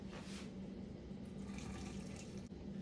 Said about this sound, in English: let's wash out the salt with hot water